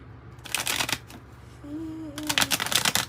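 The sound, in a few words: shuffling tarot cards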